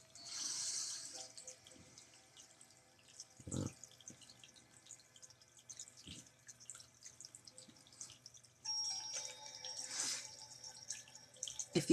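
Indoor water fountain trickling steadily at low volume in a quiet room, with a few soft thumps and faint background music, no talking.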